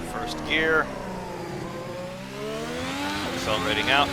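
A race car engine in the Assetto Corsa driving game on the Vietnam Grand Prix circuit revs up and climbs through the gears after a corner, rising in pitch, with someone commentating over it.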